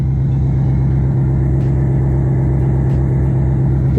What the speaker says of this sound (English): Just gonna be moving the trailer out of the way here